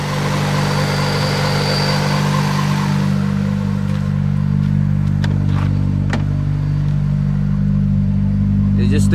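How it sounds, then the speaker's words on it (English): A Honda Civic EX with a D16Y8 engine runs with a squealing drive belt and an unsteady, high idle, a continuous engine hum carrying a thin whine, with sharp clicks later on. "It's squealing from the belt."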